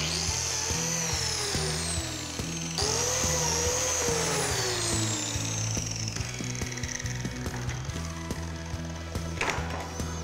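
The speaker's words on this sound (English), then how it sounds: "We'll align our biscuit joiner differently this time by clamping it off on this end of the bench." A biscuit joiner cutting slots in timber on a workbench gives a loud, steady high-pitched motor whine with a sweeping pitch, in two long passes with no talking.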